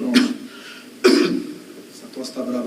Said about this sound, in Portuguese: Essa tosse está brava também